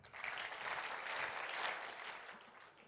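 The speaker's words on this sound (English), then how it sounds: "If you can hear me, clap 4 times." An audience at a boy-child summit claps together in a short, soft burst of applause heard from a distance.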